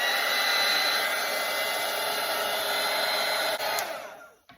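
A hair dryer blows loud and steady over a watercolour painting of winter mountains and trees, a constant airy roar that cuts off and trails away near the end.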